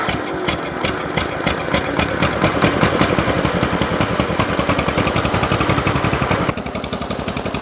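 A 1950 John Deere Model M tractor engine catches and settles into a steady, loud, close idle, its rapid even firing pulses continuing throughout with a slight drop in level near the end.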